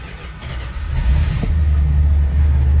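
A 1969 Chrysler Town and Country wagon engine starting from cold, a low rumble that builds after about a second into a steady loud idle, close by with no talking.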